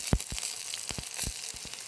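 Bitter gourd slices fry with curry leaves in hot oil, giving sharp, scattered crackles and pops over a faint sizzle, close up and fairly quiet.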